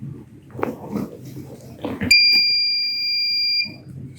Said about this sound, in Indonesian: Jadi ketika kena air, seharusnya buzzernya akan menyala.